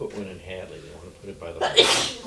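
A single sharp sneeze bursts out near the end of a committee meeting on climate change, loud and close, following a man's ongoing conversational speech.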